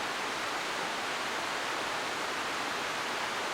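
A gushing river in Magoebaskloof forest, a steady broadband rush of fast-flowing water, loud and close, with no voices.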